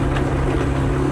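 A forestry mulcher's diesel engine runs loud and steady with its exhaust stack right beside the cab, a continuous low rumble heard up close with no talk.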